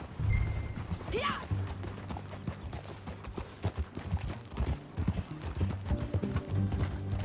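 Horse hooves clip-clop steadily in Red Dead Redemption 2, a ridden horse at a walking pace, close and fairly loud, with a brief whinny and a short spoken reply over the hoofbeats.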